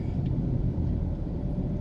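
A car drives around a park in Kingston, Jamaica, and its steady low engine and road rumble fill the interior throughout the short moment. No one speaks.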